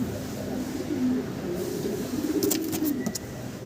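Pigeons coo in low, soft repeated murmurs close by, a steady rolling burble with a few faint higher chirps near the end.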